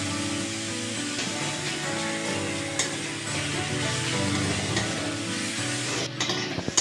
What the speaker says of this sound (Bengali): আমি ভালো করে শাকটা ঝরঝরা করে ভেজে নেব।